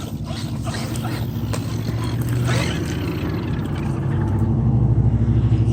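An Arrma Kraton 8s RC car drives continuously with a steady, loud motor whine and drivetrain buzz that swells near the end, while a faint voice speaks underneath.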